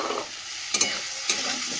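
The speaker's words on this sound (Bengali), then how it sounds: "বেগুনটাকে মিশিয়ে নাড়িয়ে দেবো।" Brinjal stirred into fried greens in a pan, with a steady close sizzle and two sharp scraping strokes of a spatula, no voices.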